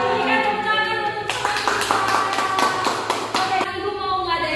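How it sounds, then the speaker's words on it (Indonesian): A burst of clapping from participants in a teacher training session breaks out for a couple of seconds over background music, then stops abruptly. "Berikan tepuk tangan untuk"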